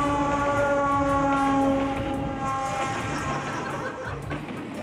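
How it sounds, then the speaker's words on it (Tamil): A train runs nearby, with a sustained horn tone sounding loudly at first and then fading into a rumbling, rattling roll of carriages. "ஏங்க ட்ரெயின் சத்தம் கேக்குதுங்க, ட்ரெயின்ல எஸ்கேப் ஆயிட்டு இருக்கானு நினைக்கிறேன்"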